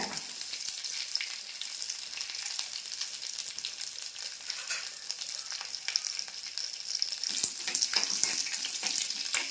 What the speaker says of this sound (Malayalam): ചെറിയ ഉള്ളിയെ മൂത്ത് കഴിയുമ്പോൾ നമ്മൾ വറ്റൽ മുളക് പിന്നെ കറിവേപ്പില